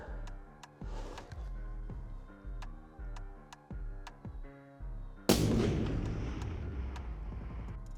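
A single loud rifle shot fired at a target frame, from a Taurus Expedition rifle, bursts out sharply and rings off in a long fading tail, after a run of steady rhythmic ticking tones.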